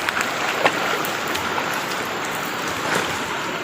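Steady rain patters on surfaces nearby, a constant hiss with occasional louder drips, with no voices.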